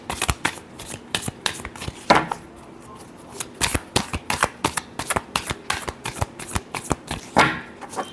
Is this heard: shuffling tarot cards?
yes